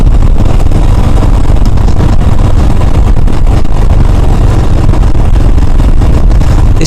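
Royal Enfield Himalayan motorcycle riding downhill on a green lane, with a steady close engine drone and heavy wind buffeting throughout.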